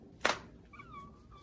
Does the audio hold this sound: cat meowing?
yes